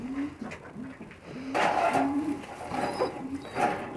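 Silver pigeons of Kuwaiti stock coo in soft, repeated low phrases, with a faint background voice and some loft noise partway through.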